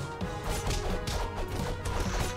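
A door beaten down in the Castle Crashers video game: a rapid run of loud crashing, thwacking hits layered over steady game music, ending as the door gives way.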